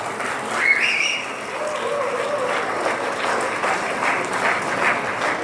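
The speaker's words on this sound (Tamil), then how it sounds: "அவங்களுக்கு இன்னொரு கரகோஷம் கொடுத்துடலாமா?" An audience at a Tamil drama event applauds the performers with a full, continuous round of clapping, some brief cheering or whistle-like tones early on over the steady crowd.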